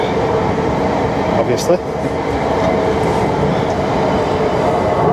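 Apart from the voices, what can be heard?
train passing on the railway behind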